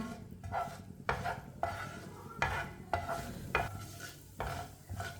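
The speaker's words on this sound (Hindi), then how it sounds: "दोनों चीज़ों को 1 मिनट के लिए रोस्ट होने देते हैं" Whole coriander seeds dry-roasting together with another ingredient in a pan, with a spoon scraping and stirring in irregular strokes over a soft sizzle, close and fairly quiet.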